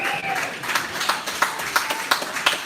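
A live audience at a talk in Currumbin, Queensland, claps in a loose rhythm with scattered cheers, the claps fairly near and distinct over background voices.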